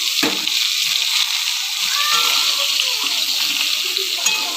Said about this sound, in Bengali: এবার এই হালকা ভাজা পটলের মধ্যে আমি কুমড়ো আর আলুটা তুলে দেবো।